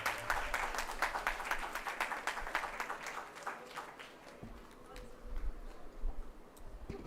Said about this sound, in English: so a round of applause for India